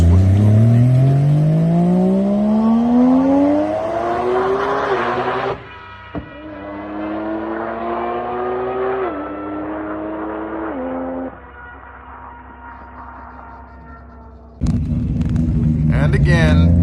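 A Mazda RX-7 drag car with a three-rotor billet engine, Ford 9-inch rear end and DCT gearbox launches at Darlington Dragway, its engine screaming up through gears with tires breaking loose. The sound is loud and continuous, with a brief dip at each shift.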